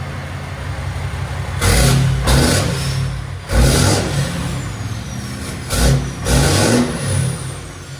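A straight-piped 2017 RAM 2500 with a 6.7L Cummins turbo diesel revs loudly up close in several repeated bursts, each throttle blip swelling and falling back to a rough idle.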